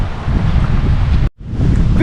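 Strong gust-front wind in an early November storm roars loudly and steadily as broadband buffeting against the microphone, cutting out briefly near the end before resuming at full force.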